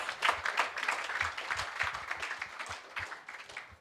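A lecture-hall audience applauds after a talk on fintech law, a steady wash of many hands clapping that holds at moderate volume for several seconds.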